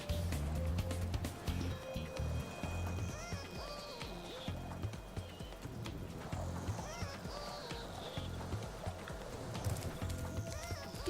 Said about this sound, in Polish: Do wyścigu dołączyła zgraja owiec w kosmicznych spotkach. Normalnie pędzą jak dzikie.